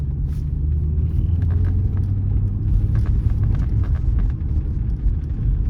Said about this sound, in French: je sais pas si le glougloutement c'est parce qu'il manque un cylindre ou si c'est juste parce que le bruit est stylé